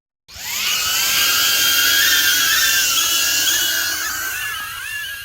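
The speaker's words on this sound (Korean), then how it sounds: "중무장을 한 코모란트 드론 유닛이 날카로운 소리를 내며 네오 프리메이슨의 전투함들로 향해 날아왔다" A heavily armed Cormorant drone unit flies in with a sharp, sustained high-pitched whine, loud and steady throughout with a slight wavering pitch, heard alone with no talk.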